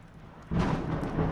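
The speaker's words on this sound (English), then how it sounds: "The sound of thunder rattles against the window, along with the rain pounding against it." Thunder rumbles in suddenly with rain pounding against a window, a dense, steady low roar that holds loud after a quiet start.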